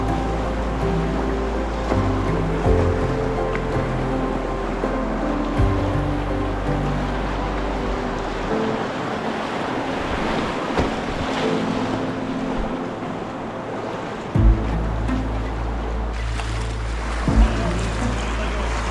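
Whitewater rapid above Gabriel's Bend on the lower Haw River on a crisp spring morning, heard from a boat: a steady, close, full rushing roar of water, mixed with heavy low wind buffeting on the microphone.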